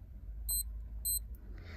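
A BESTA POWER clock sounding its hourly alarm: two short bursts of bright, high electronic beeps about half a second apart, clear and close over a low background hum.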